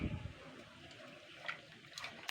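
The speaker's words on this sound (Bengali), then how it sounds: "এরকম ডোলে ডোলে ধুয়ে নিতে হবে সবগুলো ভালো করে" Chicken feet being swished and washed in a bowl of water, soft close-up splashing and sloshing, faint and brief.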